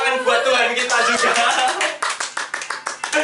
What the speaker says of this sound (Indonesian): Tepuk tangan buat Tuhan kita juga.